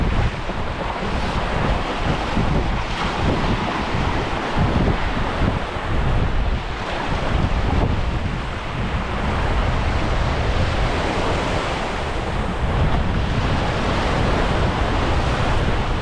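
Sea waves wash continuously at the tip of Thalaimannar island in Mannar, with strong wind buffeting the microphone and a constant loud roar of surf, no voices.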